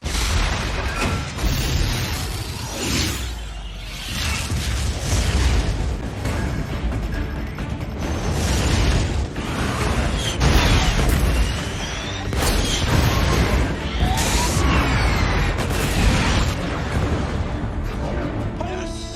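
Naval guns of a warship firing in the movie Battleship, a dense run of loud booms and crashing blasts over a constant roar, with heavy low rumble and repeated impacts filling the whole stretch.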